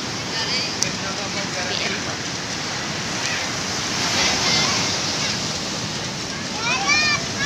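Steady roar of surf breaking on Wedi Ombo beach in Gunung Kidul, Yogyakarta, loud and continuous, with faint voices in the background.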